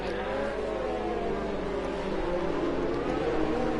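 Formula 1 cars running a formation lap through the final corners of the Singapore circuit in a video game, steady engine drone from several cars held at moderate level for the whole stretch, no voices.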